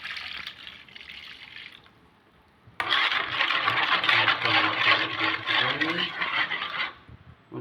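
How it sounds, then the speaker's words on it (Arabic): A glass of warm milk is poured into a dough mix of instant yeast and sugar, making a steady close splashing pour of about four seconds after a brief quieter trickle. "ونصبو كاس حليب دافي"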